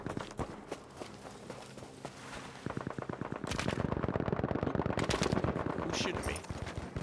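Gunfire in the video game Battlefield V Firestorm: sparse shots give way to rapid bursts of machine-gun fire, dense and fairly close, with footsteps and movement mixed in.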